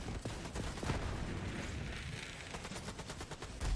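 Gunfire crackles in Borderlands 4, a rapid series of fairly quiet shots that rattle across several seconds. A few sharper bursts stand out among them.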